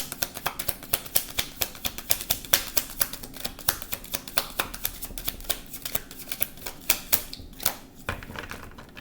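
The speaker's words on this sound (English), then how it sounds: "getting the urge to shuffle. So I'm going to do that." Tarot cards are shuffled close by, a quick steady run of soft, crisp riffling clicks that repeats for several seconds with no voice over it.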